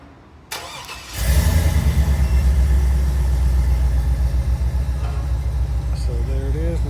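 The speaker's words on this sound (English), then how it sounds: "So there it is with the little engine start." A 2003 GMC Sierra single cab pickup with an aftermarket Viper remote start cranks and fires up after a short click, then settles into a steady, close idle. Someone speaks briefly near the end.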